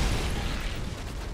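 A dynamite charge explodes in the Wolfenstein video game: a quiet, muffled, rumbling blast that fills the short moment and then slowly fades.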